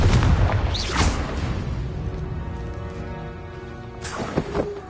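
A Confringo blasting curse explodes in Hogwarts Legacy, a loud booming burst at the start that rolls off, followed by a second sharp blast near the end.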